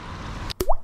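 A creek chub released back into a creek makes a sharp plop into the water right up close, followed by a quick gurgling bloop after a rushing background of flowing water.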